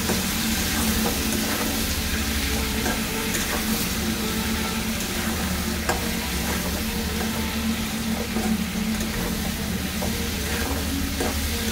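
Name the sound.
sautéing with Kashmiri chilli powder in a pan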